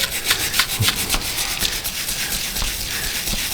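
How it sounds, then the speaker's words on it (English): Steady scraping of rust off the face of a Ford Taurus rear brake caliper piston, a loud, close, continuous gritty rubbing with repeated strokes and no talk. "we're just gonna scrape some of the rust off the face of this piston"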